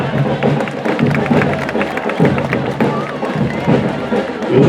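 Crowd at a Sete de Setembro parade in Floresta, Pernambuco, clapping and cheering in loud, continuous waves with some thumps mixed in, and voices carrying through the noise.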